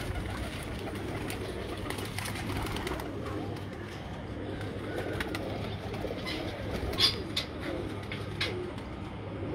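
Soft, low pigeon cooing murmurs continuously against a noisy, rumbling background, fairly close, with a few brief clicks and scrapes.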